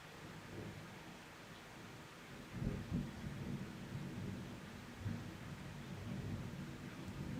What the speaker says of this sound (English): lightning and the thunder. That's a low rumble.